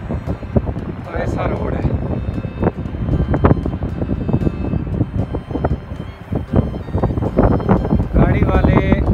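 Strong wind gusts buffet the microphone along a narrow mountain road in Uttarakhand, a loud, continuous roar with rising bursts, while someone talks over it.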